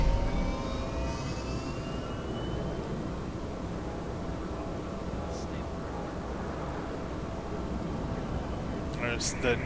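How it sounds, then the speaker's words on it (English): Speeder bike in Star Wars: The Old Republic gliding through Coruscant, a steady, loud whooshing engine drone with a rising whine at the start, holding constant throughout with faint chirps near the end. "I can hop on my speeder bike"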